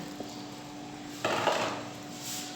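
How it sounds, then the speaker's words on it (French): A spoon stirs peanut sauce for mafé, enriched with butter, in a cooking pot, giving one close scraping clatter against the pot followed by quieter rubbing over a low steady hum. "Et je mélange tout bien."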